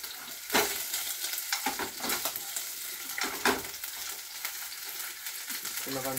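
Meat fries in a pan for a home-cooked curry, giving a steady close sizzle broken by repeated scraping and clattering stirs.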